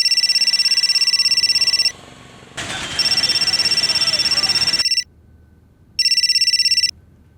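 A telephone rings with a high, pulsing electronic tone in repeated bursts separated by short silent gaps, loud and close, with a muffled break where the ringing drops and returns.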